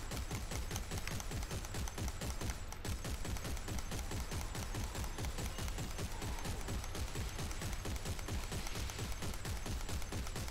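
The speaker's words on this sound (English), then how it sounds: "It's just going to be me spraying rounds." Sustained rapid-fire weapon spraying rounds in Dead Space 3, a loud continuous stream of evenly spaced shots that runs unbroken for about ten seconds.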